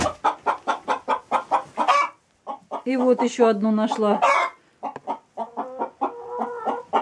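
White laying hens cluck in quick, rhythmic bursts close by, with someone speaking briefly between the calls.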